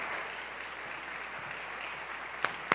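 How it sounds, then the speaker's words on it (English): Soft, distant applause from an audience at an arts awards ceremony holds steady throughout, ending with a couple of sharper, closer claps. "Let's have one more round of applause"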